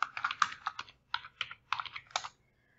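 Keys tapped on a computer keyboard while entering an admin password during a MySQL installation, a quick burst of close, crisp clicks in short clusters with brief pauses, trailing off near the end.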